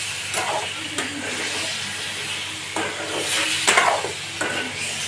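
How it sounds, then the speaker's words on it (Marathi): Chicken pieces sauté in stone-ground masala in a pan, a soft steady sizzle broken by several sharp scraping stirs of a spoon against the pot, with no voices. "मी चिकनचे पीसेस त्याच्यामध्ये टाकलेले आहे याला आपण परतून घेऊया"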